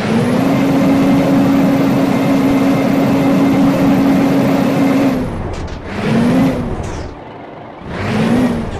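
A Hino RN bus engine in a video game drones steadily, then revs up and down in bursts with a raspy exhaust note, no talking.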